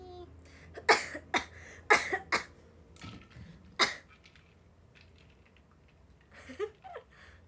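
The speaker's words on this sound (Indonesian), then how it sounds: "Ini batuk bukan gara-gara es guys." A run of sharp coughs, several in quick succession then a lone one, followed by faint rustling and a couple of softer coughs.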